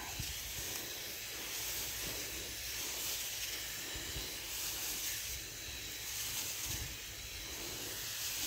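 Insecticide sprayer misting kidney bean plants in a garden, a steady continuous hiss of spray that stays level throughout with no talk.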